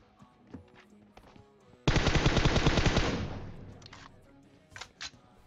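A long rapid burst of automatic gunfire in PUBG Mobile, loud and dense, fading out after about a second, framed by scattered softer in-game clicks and thuds.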